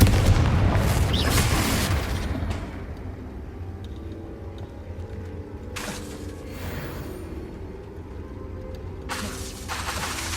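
Fire-blast Confringo spell explosions in the video game Hogwarts Legacy: a deep rumbling boom at the start, then quieter bursts several seconds apart, all fairly faint.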